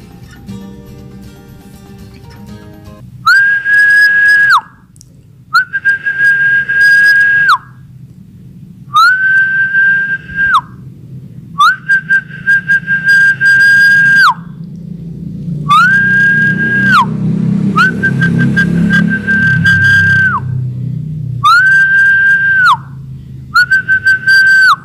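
A person whistles to call the wind, repeating a clear, sustained tone in bursts of a second or two, separated by short silences, with a low background rumble underneath.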